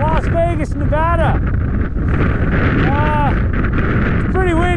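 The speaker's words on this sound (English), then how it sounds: "Holy crap, it's windy." Strong wind gusts roar across the microphone in Bootleg Canyon near Las Vegas, a loud, constant blustery rush while someone talks through it.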